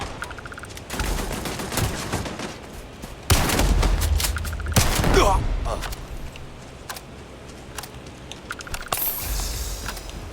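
Shotgun blasts in the video game Starfield, several loud, sharp bursts of game gunfire with explosive rumble, mixed with other combat noise and a player talking over it.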